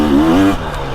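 KTM 350XCF four-stroke dirt bike engine revving on a woods trail, loud and close, a rising then falling engine note that fades off after a brief burst.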